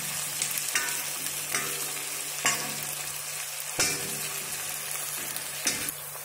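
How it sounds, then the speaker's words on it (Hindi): Khimpoli frying in oil, a steady sizzle broken by sharp clinks and scrapes of a spoon stirring the pan at irregular intervals, close by, with a low hum underneath and no speech. "धीरे धीरे जो है फ्राई हो रही है खिंपोली"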